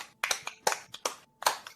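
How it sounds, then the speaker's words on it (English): A few people clap sarcastically in a small room, four or five sharp, separate bursts of claps with gaps between, close and fairly loud. "Y'all guys can stop the sarcastic clapping now."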